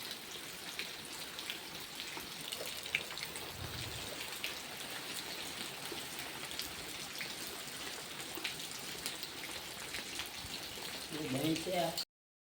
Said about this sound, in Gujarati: વરસાદ ની શરૂઆત થઈ ગઈ મિત્રો